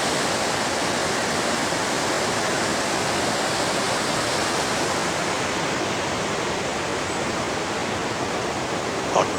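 Fast, noisy Alaknanda river water rushes continuously at Nandprayag, a loud steady roar of flowing torrent with no breaks, close by and alone.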